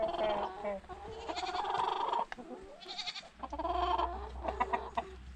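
A Copper Maran rooster clucks and calls among hens in a backyard coop, its close, loud vocalizations rising and falling in irregular bursts with brief pauses between them.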